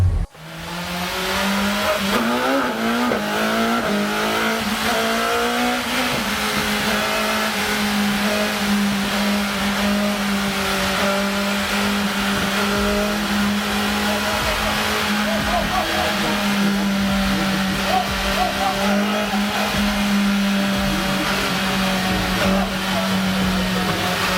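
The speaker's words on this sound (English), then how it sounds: "This is a 1000cc. Here, you literally just power wheelie, pop the throttle, and it goes up." A 1000cc motorcycle is pushed hard for a power wheelie at the M Fest 2022 event. Its loud, close engine rises quickly at the start and then holds a sustained high-revving roar for the whole stretch.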